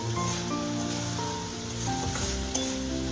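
Red amaranth greens and potatoes fry steadily in a pan, a dense continuous sizzle with occasional stirring scrapes and one sharp clink near the end.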